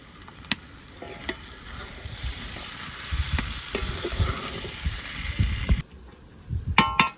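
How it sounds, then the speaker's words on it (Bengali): Potatoes and tomato fry in a pan for aloo dum, with a close, busy sizzle broken by repeated scraping stirs and clicks. The frying is loud and steady, with no speech. "খুব সুন্দর আলু কষানোর সঙ্গে টমেটোটা দিয়ে দেবো"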